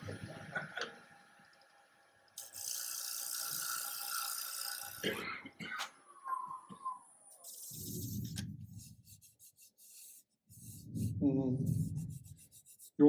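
Lathe tool taking a final cut on a wooden platter being turned, heard as sustained scraping and rubbing passes broken by pauses, with a few louder low rumbling bursts near the end.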